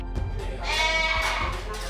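Sheep bleating on a goat and sheep farm where a ewe has just given birth, a loud, sustained wavering bleat rising after a brief lower call, close by over steady outdoor background noise.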